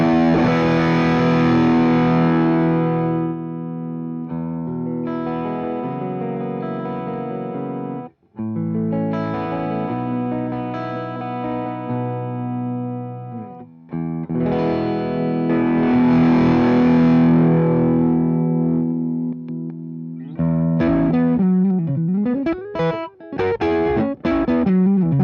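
Electric guitar played through a mini tube amp with its gain switch in the gain-plus position gives a driven, distorted tone. Sustained chords ring out and are cut off in phrases, then short choppy figures close the passage. No one talks.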